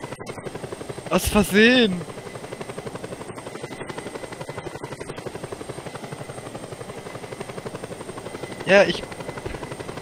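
A steady, rhythmic helicopter rotor chop runs throughout in Just Cause 2 multiplayer, moderately loud and even, with a brief burst of speech near the start and another short voice near the end over it.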